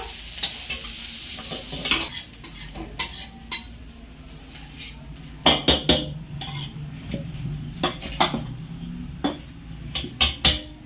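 Fried potatoes are scooped from a pan into a bowl with sharp, irregular metal scrapes and clinks of utensil against cookware, over a faint frying sizzle.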